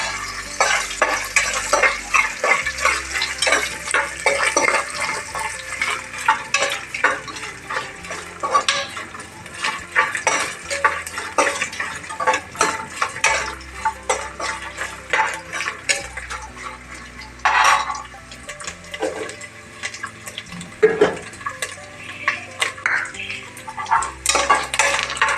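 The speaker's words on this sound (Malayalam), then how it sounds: "ഇതിനെ ഇളക്കുക." A spoon stirs chicken curry with vegetables and coconut pieces in a pan, with repeated scraping and clinking against the metal, a soft sizzle underneath and brief pauses between strokes.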